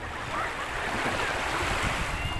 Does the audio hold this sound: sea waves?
yes